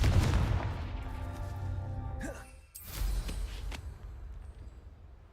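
A Confringo blasting spell cast in Hogwarts Legacy lands as one sharp, loud explosive burst partway through, following a ringing magical tone and fading into a lower rumble.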